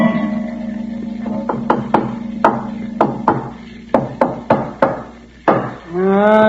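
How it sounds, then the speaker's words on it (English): Knuckles or a tool tap on solid stone walls and floor inside a crypt, a series of sharp, hard knocks in uneven rhythm over a steady low hum, ending with a rising swell of sound. "Riley, every spot we've tapped seems to be solid stone or concrete"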